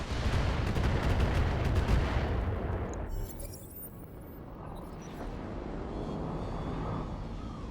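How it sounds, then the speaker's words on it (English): Heavy booming shots from Gauss rifle rounds in a video game hit loud and dense at first, then fade into rumbling echoes and a lower continuous roar. "Practice Gauss rounds."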